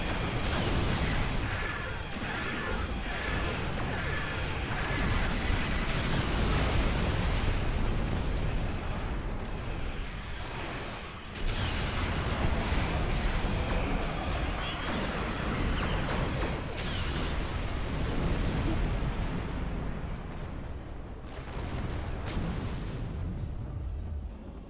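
Torpedo launches and explosions in Star Trek Online space combat: a dense, continuous wash of booming blasts and rumbling impacts, loud and sustained, with a brief dip before the barrage resumes.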